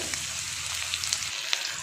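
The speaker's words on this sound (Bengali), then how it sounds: "পেঁয়াজটাও আমি এখন একদম লো ফ্লেমে 3-4 মিনিটের মতন ভেজে নেব" Chopped onion fries in hot oil over a low flame with a soft, steady hiss and a few sharp crackles popping up now and then.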